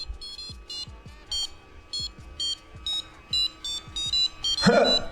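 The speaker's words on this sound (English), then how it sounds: "we'll see if our buzzer that we soldered on actually works" A small electronic buzzer soldered onto a Hackerbox 0057 badge beeps in short, shrill bursts, repeating steadily several times, with soft knocking sounds underneath.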